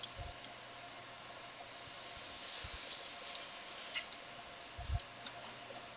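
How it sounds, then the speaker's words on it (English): An IP address being typed on a computer keyboard in a browser: sparse, faint, irregular key clicks over a quiet hissy background, with a couple of slightly louder taps. "And then here, type your IP address."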